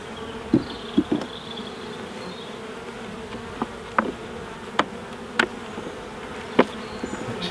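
Honey bees buzz steadily around an opened beehive that has been struggling, a dense continuous hum with individual bees zipping close past at intervals, no talking.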